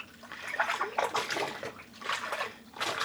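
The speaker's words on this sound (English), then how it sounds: "And again, I just squeeze out the water." Rinsed alpaca bouclé yarn is squeezed by hand, giving several close wet squelches and splashes of water draining into a basin, in uneven bursts.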